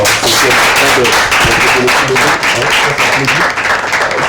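Dense, loud applause from a studio audience on a French-language television show, a steady wash of many hands clapping continuously without a break.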